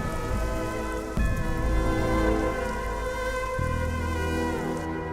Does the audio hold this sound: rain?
yes